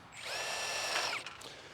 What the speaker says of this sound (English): we want to pre-drill this aluminum base